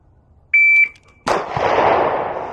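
A Sig P250 pistol in .40 S&W fires a sharp loud shot that rings out and decays, preceded by a brief steady electronic beep from a shot timer.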